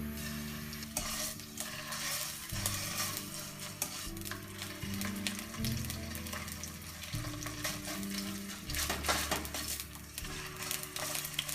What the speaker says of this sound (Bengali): সামন ফিসটাকে আমরা ভাজি করব